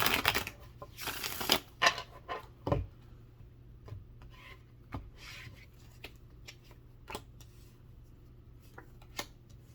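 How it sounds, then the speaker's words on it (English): Tarot cards shuffled by hand in quick riffling bursts, then scattered soft rubs and taps of cards being handled, close and fairly quiet. "Let's get one more shuffle."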